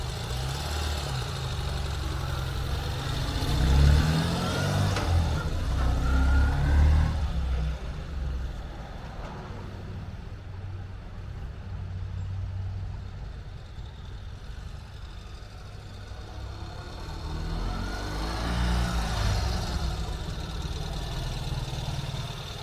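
A Ural Gear Up sidecar motorcycle in Terracotta Metallic rumbles on a short test ride, its engine throbbing low and steady with swells in revving near the start and again later, no voices.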